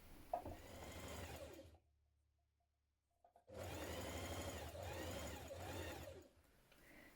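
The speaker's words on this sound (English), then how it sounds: "bring together your underarm seam, match your notches and stitch your seam in place" Two close runs of a sewing machine stitching a blouse underarm seam, a steady whirring hum broken by a short silent pause.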